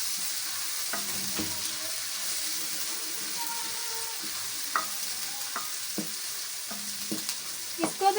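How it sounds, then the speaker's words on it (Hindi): Garlic ginger paste frying with onion in a pan for a bottle gourd (lauki kaddu) curry, a steady sizzle with scattered scraping stir strokes, close and continuous, no voice. "इसको भी आपने प्याज के साथ थोड़ा ब्राउन करना है"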